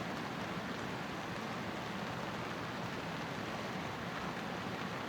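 Heavy rain pours steadily outside a tent at Shindo campsite in Kanagawa, Japan, a dense, continuous hiss and patter with no pauses and no voices.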